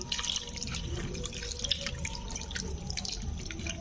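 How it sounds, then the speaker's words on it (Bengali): Steady trickling and splashing of water running into a pan of spiced small fish, continuous and fairly close, with no voices. "পরিমাণ মতো পানি দিয়ে দিব"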